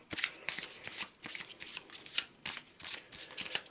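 Deck of cards being shuffled in a board-game session, a steady run of crisp riffling flutters and slaps at close range, moderately quiet with no voices over it.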